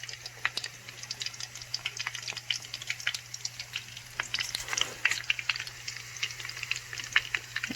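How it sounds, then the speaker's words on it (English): Egg rolls frying in hot oil give a steady, faint crackling sizzle with scattered tiny pops, continuous throughout with a low steady hum underneath. "The egg roll's cooking"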